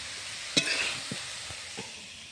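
Fresh pea greens stirred and fried in a pan, a soft sizzle broken by a few distinct scraping strokes of a spatula, close and fairly quiet.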